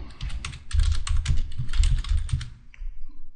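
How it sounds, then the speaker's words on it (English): Quick bursts of keystrokes clatter on a computer keyboard nearby, an uneven run of clicks with a short pause before a final flurry. "Here I can type whatever I want."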